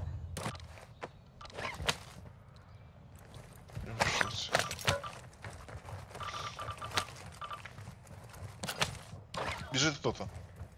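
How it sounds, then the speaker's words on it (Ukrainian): Running footsteps from another player in Call of Duty Modern Warfare II DMZ, quick irregular thuds and patters set against game ambience, with several bursts of louder activity and light chatter in the background. "Біжить хто-то, чуєш?"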